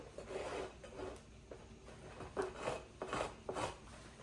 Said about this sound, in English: I'm using this trowel and just kind of smooth it out a little bit